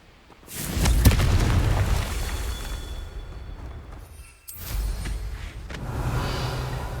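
Confringo fire spell explosions in Hogwarts Legacy: a loud booming blast with a sharp crack near the start, rumbling decay, then a second burst and sustained roar later, no voices.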